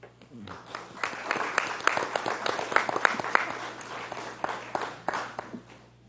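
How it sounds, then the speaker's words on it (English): Scattered applause in a small board meeting room for candidates, a modest group of hands clapping unevenly and fairly near, building then tapering off, with some murmured talk beneath. "I'd like to give them a round of applause."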